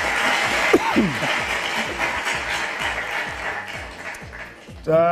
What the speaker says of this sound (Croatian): publika plješće